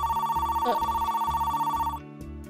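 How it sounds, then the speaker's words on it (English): A cell phone rings with a loud, steady electronic ringtone in a regular pulsing rhythm, close and alone, cutting off abruptly near the end. "my cell phone rang"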